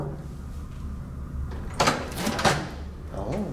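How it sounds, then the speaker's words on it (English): A hotel suite door at the Fairmont San Jose swings open, with a soft latch click followed by a louder clunk and rustle of the door moving, heard close in a quiet room. "See, door magically opens just for me."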